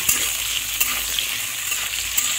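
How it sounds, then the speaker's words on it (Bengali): Potatoes frying in hot oil for a Bengali jhinge aloo posto, a steady close crackling sizzle with a few sharper pops, continuous and fairly loud with no voices. "আলুগুলোকে প্রথমে একটু ভেজে নিতে হবে।"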